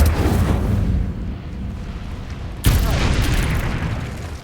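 The Incendio fire spell is cast in the video game Hogwarts Legacy: a sudden loud whooshing burst erupts partway through, over a constant rumbling game ambience.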